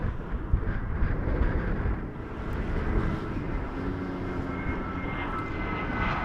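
A Delta airliner approaching to land at Toronto Pearson Airport, a steady, broad jet roar that holds loud and even throughout, with no talk over it.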